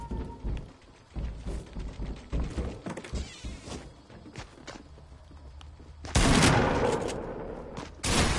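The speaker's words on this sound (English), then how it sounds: "A shotgun." Video game gunfire, including a shotgun, bursts as a quick series of sharp, loud cracks and thuds, followed by a louder sustained blast near the end.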